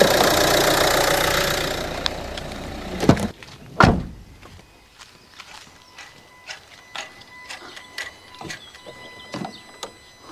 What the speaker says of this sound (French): Je vais aller couper le moteur hein,